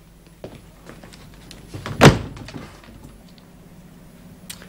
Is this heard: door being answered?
yes